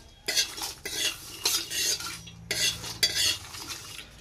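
Spice paste stirred and roasted in a pan for chicken maharani, a utensil scraping and clattering against the metal in repeated bursts over a faint low sizzle, close and fairly loud with no talking.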